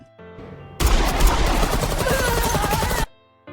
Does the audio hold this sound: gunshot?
yes